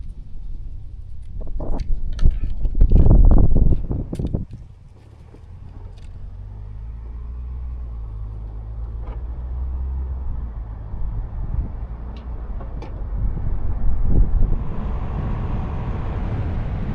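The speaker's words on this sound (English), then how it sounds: "We are driving on top of the mountains here." A car drives along Trail Ridge Road high in the Rocky Mountains, with a steady low engine and road rumble and wind buffeting the microphone, loudest early on before settling into a smooth drone.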